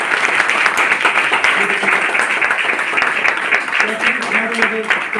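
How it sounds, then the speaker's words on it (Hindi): A seated audience claps for an elderly woman standing up at a group gathering, sustained dense applause with faint voices talking underneath throughout. "बजा दो तालियां एक बार।"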